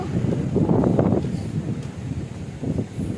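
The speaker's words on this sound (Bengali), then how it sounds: "যত নদীর কাছে যাচ্ছি তত হাওয়াটা পাচ্ছি" Gusting wind buffets the microphone near a river, a steady low rush swelling and easing, with no voices.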